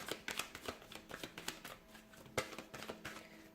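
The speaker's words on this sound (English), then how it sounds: "let's go ahead and give the cards a shuffle here" A deck of tarot cards is shuffled by hand, giving soft, quick riffling and tapping clicks in an irregular rhythm, fairly quiet and close.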